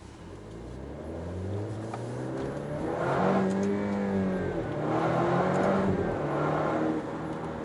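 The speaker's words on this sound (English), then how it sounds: "you could actually hear like the velocity of the exhaust being channeled out the rear tailpipes now" Alfa Romeo Stelvio Ti Sport with a Centerline Stradale exhaust accelerating hard from inside the cabin, a rising engine drone climbing through the revs in two sustained pulls, loud and steady with no talking.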